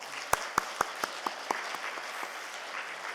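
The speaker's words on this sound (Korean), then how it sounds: "박수하세요." A few sharp, separate claps ring out in a steady rhythm from an audience at a church prayer gathering, then thin out to faint scattered pats over a quiet background.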